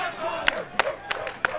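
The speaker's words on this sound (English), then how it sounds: "If you could see the crowd right now, they are losing their minds." Crowd at an esports fighting-game tournament final erupting in loud cheers and shouts, with sharp repeated bursts of yelling and clapping over a constant roar.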